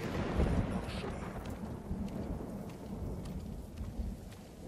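Thunderstorm in Ghost of Tsushima, a low rolling rumble of thunder over steady rain hiss, strongest at the start then settling into a continuous downpour with no voices.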